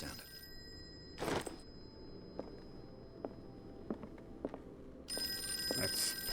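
A telephone rings in the Call of Cthulhu horror game, an old-style bell trilling in a sharp burst, then quiet with scattered footsteps and small knocks, before a second ring starts up loud and bright.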